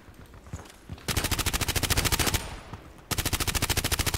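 Rapid gunfire from an HK USP pistol in the shooter game Contract Wars, two dense bursts of evenly spaced shots, loud and close, after a few scattered quieter shots.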